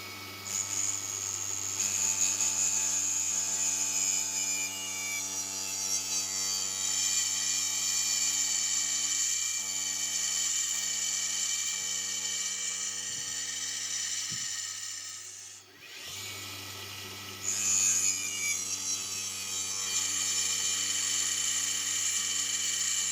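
Saw cutting a small brass part for a muffler clamp whines steadily and loudly with a bright metallic hum for a long stretch, briefly dropping away near the end before resuming.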